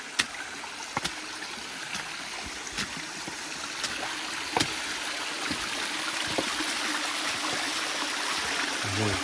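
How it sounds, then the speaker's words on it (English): Creek water spills over a series of small waterfalls in a wooded hollow, making a steady broadband rush, with a few sharp clicks and splashes close by and no speech. "Kind of like a series of waterfalls here."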